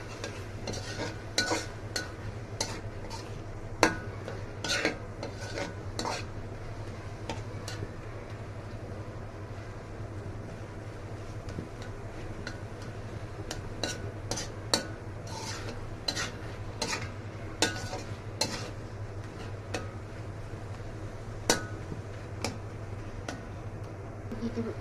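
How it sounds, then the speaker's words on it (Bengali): Softened tomatoes with salt being stirred in a pan for a tangy-spicy tomato tok jhal, a quiet sizzle under frequent, irregular taps and scrapes of a utensil against the pan. "এবার একটু নাড়াচাড়া করে নিব।"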